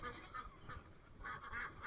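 Pet ducks honk and quack in short repeated bursts close by, a lively outdoor chatter without any talking.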